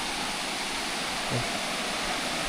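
Steady rushing water at Tham Nam Lod cave, a broad continuous wash of flowing stream or cascade filling the scene from start to finish with no talk over it.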